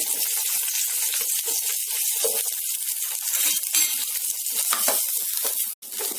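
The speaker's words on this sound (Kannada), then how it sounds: "ಈಗ ಈರುಳ್ಳಿ, ಬೆಳ್ಳುಳ್ಳಿ, ಹಸಿಮೆಣಸಿನಕಾಯಿ ಮುರಿದ್ಬಿಟ್ಟು ಹಾಕೊಳ್ಳಿ, ಮೈನಲ್ಲಿ ಸಿಡಿಯುತ್ತೆ" Onion, garlic and green chili fry in hot oil for a chicken sambar, a loud, steady, close sizzle with crackling spits throughout and no talking.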